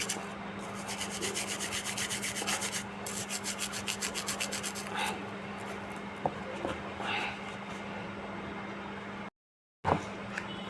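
Gold jewelry crusted with white oil and spice residue, dipped in water and rubbed clean by hand: close, steady scratchy rubbing strokes, at times in quick rhythmic bursts, ending in a brief silence and then a sharp clack.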